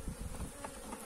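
Honeybees buzzing at a hive during a spell of cold, rainy weather, a dense continuous insect drone, close and steady, with no voices.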